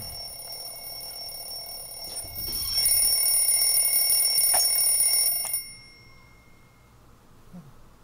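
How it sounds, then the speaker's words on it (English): An alarm rings in an animated short film, a bright metallic bell-like tone with sustained high overtones that swells louder midway, holds for a few seconds, then cuts off abruptly, leaving a quiet background. "it made an alarm sound"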